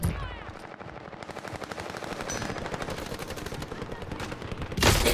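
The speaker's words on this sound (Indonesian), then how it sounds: "Oh ya kena sniper itu tuh." Rapid gunfire bursts in a Call of Duty: Warzone match, a dense run of shots with a sharp report at the end, with no voices.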